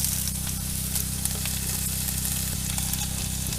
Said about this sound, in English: My potatoes have been cooking for a while.